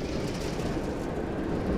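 A Class 09 diesel shunting locomotive starts up in Train Sim World 2, giving a loud, steady low engine rumble with broadband mechanical noise that runs without a break and without speech.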